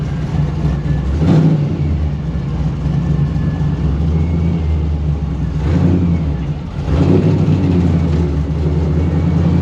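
A 1955 Chevy Nomad gasser engine rumbles loudly and close on a test drive. It gives a few surging revs over a steady low drone.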